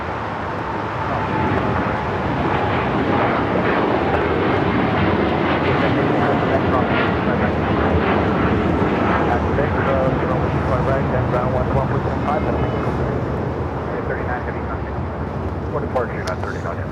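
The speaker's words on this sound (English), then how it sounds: "we got a United 787-10 Dreamliner taking off, 25 right" A United Boeing 787-10 Dreamliner takes off from runway 25 right, a loud, steady jet engine roar holding for the whole stretch with faint traffic noise underneath.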